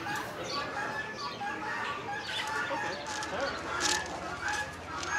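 Chickens such as Red Rangers and Delawares clucking at a poultry market, repeated nearby clucks and calls mixed with people talking in the background.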